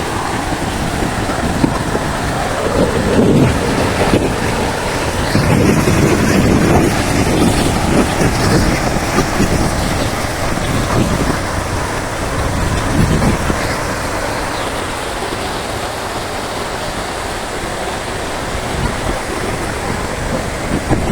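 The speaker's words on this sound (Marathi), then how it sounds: "तिथे मोठ्या प्रमाणामध्ये पाणी वगैरे वाहत आहे इथे" A large volume of river water flows near Bardewadi in Alvand as a steady, broad rush. Gusts of wind buffet the microphone, and a brief louder swell comes early on, with no talk.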